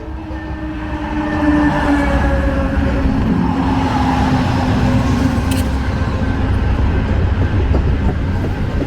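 An Amtrak Lake Shore Limited passenger train arrives, its heavy rumble rising after a second and then holding loud and steady as railcars roll past nearby.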